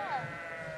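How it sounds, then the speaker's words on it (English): A sheep on White Sheet Hill, Wiltshire, lets out a single wavering bleat, clear and fairly close, over a quiet outdoor background. "Sheep."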